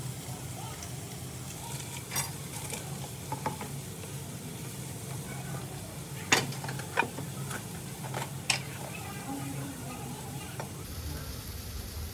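Soya bhurji roasts in a pan as it is stirred, giving a soft steady sizzle with scattered scraping clicks from the utensil, a voice faintly present alongside.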